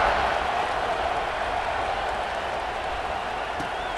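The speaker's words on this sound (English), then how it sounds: "this crowd is buzzing after that last score" A stadium crowd at a college football game buzzes loudly after a touchdown, a steady dense roar of many voices and cheering held throughout.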